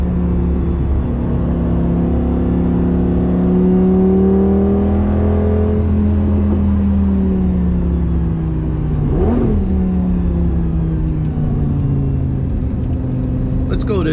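A 2007 Lamborghini Gallardo 5.0L V10 coupe driving, its steady, loud engine drone heard from inside the cabin, rising and easing through gentle throttle changes with a brief shift, while the driver talks over it.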